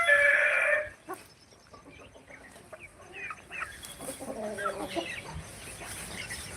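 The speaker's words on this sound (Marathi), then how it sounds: "गावरान कोंबड्या दिसतात" Free-range country chickens on a farm cluck and chatter softly in the background after a brief high electronic tone, with scattered bird calls at moderate distance.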